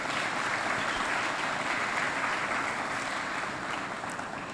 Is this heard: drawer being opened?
no